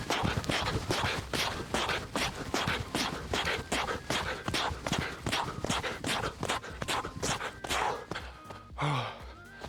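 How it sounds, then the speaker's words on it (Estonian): A runner bounds up a slope in a series of bounding step jumps, each landing a sharp thud, roughly two per second, with heavy breathing between strides and a pause at the end. "ma võtan selle tõusu, mis siin on, ja tulen siit sammhüpetega ülesse."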